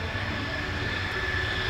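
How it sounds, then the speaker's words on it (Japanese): A Japan Air Self-Defense Force F-4EJ Kai fighter jet with commemorative paint runs its engines on the ground before takeoff at an air show, a loud, steady roar with a high whine, close and continuous. "記念塗装された F4 がエンジンの最終点検を終了し、離陸準備が完了しました。"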